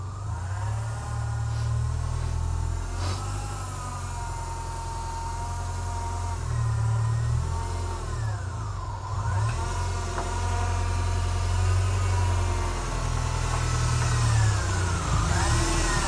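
Volkswagen Golf Mk3 engine idling and lightly revving as the car is eased backward a short distance, a steady low rumble with small swells across the stretch.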